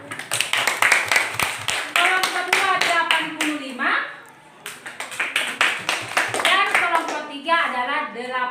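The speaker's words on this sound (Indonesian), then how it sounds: "Tepuk tangan." Children in a classroom clap their hands in several quick bursts of applause, with a teacher's voice speaking between and over the clapping.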